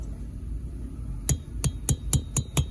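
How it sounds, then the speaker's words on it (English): A quarter-inch punch lightly tapping a wrist pin out of a new 2-stroke engine piston, six sharp metallic ticks at a brisk, slightly uneven pace, close and clear over a quiet low background hum. "I'm barely tapping. Don't drive it, don't whack it hard."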